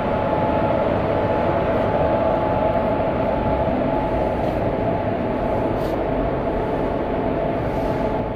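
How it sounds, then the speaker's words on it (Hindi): Singrauli Intercity train standing at Singrauli railway station, with a loud, steady engine hum and idling drone that runs unbroken, close by and without talk. "सिंगरौली देख सकते हैं, और ये ट्रेन खड़ी है।"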